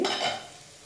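Onions sautéing in a pan for mutton butter gravy give a short burst of sizzling and a stir of the spoon that fades quickly, close and quiet, with no talk.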